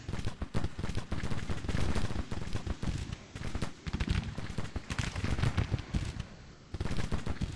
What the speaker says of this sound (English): Our guns should still be firing on him from up here in the woods